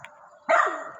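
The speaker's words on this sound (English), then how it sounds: "Beautiful dog." A dog, an eight-year-old, gives a short bark followed by a louder, fuller bark that trails off, close to the listener with no talk over it.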